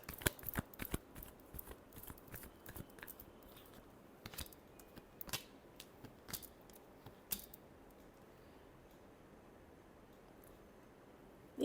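Tarot cards are shuffled close up in quick bursts of crisp riffling and flicking, then quieter handling that trails off into near silence.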